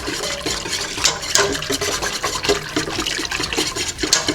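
Whisk scraping and swishing through thick cherry pie filling with added cornstarch in a pot, a continuous busy stirring sound with repeated sharp clinks against the metal, close and fairly loud.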